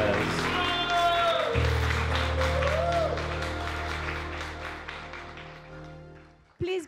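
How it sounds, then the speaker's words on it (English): Wedding guests break into a round of applause for the newly married couple, a sustained clapping crowd with a voice and a tone running over it, fading gradually before a short loud thump at the end. "Let's get a nice round of applause for Raul and Cindy"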